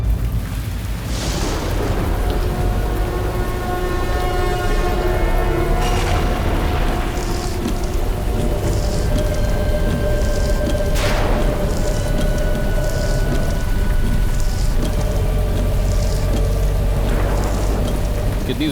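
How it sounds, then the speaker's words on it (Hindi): Heavy rain pours steadily in a horror drama, with a car broken down in front of a dak bungalow. The downpour is a constant, dense wash that fills the scene, with a tonal drone and a few booming swells rising through it. "कितनी जोर की बारिश हो रही है।"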